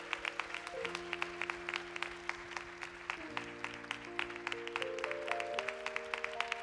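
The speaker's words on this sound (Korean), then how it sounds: "우리 잠깐 앞으로 나오시면 좀 큰 박수로 좀 축복합시다." Church congregation applauds members called forward at a youth candlelight worship service, a dense, sustained clapping of many hands over a tonal musical backdrop.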